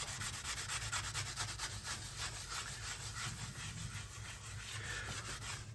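Steady rubbing and scrubbing with rubbing alcohol to lift dye from a handmade D20 dice bag, a continuous close scratchy friction with no speech.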